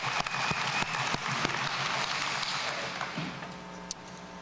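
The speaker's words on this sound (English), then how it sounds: "Let's give the inductees another round of applause." Applause from an awards-ceremony crowd for Hall of Fame inductees, strong at first with a few distinct sharp claps, then gradually thinning and fading out.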